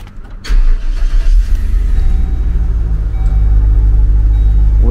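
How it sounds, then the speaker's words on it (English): A car engine cranks briefly and catches, then settles into a loud, steady idle close to the microphone. "Start the engine one time."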